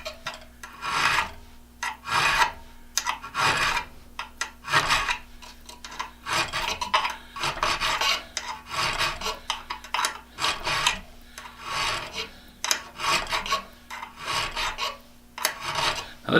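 A big file rasps across an Irwin/Jennings style auger bit, stroke after stroke in a steady rhythm of broadband scraping, close and clear with a faint steady hum underneath.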